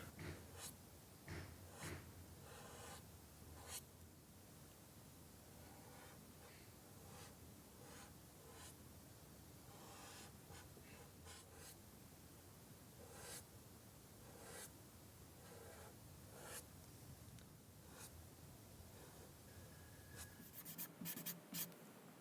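Soft rubbing and scratching of an eraser and pencil on paper while lightening a pencil seascape drawing, continuous faint strokes with occasional sharper scrapes, close and quiet.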